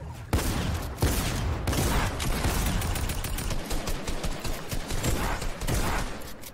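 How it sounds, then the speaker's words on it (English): Rapid bursts of enemy gunfire in a Fortnite match, loud and dense, rattling almost continuously with short gaps and no talk over it. "This guy's shooting at me"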